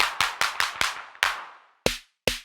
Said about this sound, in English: the clap has a little more compression on it